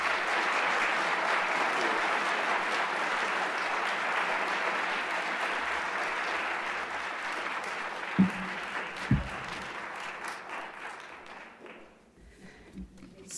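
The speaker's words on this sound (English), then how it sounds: "Please give them a round of applause." A room full of people at an awards event applauds, steady clapping for several seconds that thins out with a few last claps before fading to quiet.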